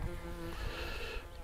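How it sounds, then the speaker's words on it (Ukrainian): A wasp buzzes close by around an angler fishing for zander on the Dnipro river. The drone is continuous and wavering, and its pitch shifts as the insect moves near. "Оса якась. Жесть. Оса, тікай."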